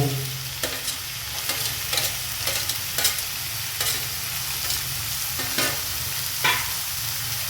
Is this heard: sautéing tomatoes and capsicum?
yes